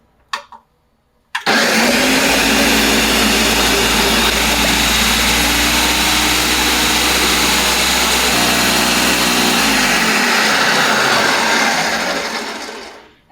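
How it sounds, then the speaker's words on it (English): A blender starts abruptly and runs loudly and steadily for about ten seconds, churning a thick vegan stretchy mozzarella cheese mixture, then winds down as it stops. "we're going to blend it for a very long time until it is all nice and smooth"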